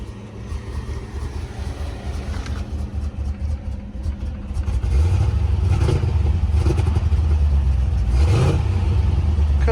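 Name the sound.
1984 Chevy C4 Corvette engine running rough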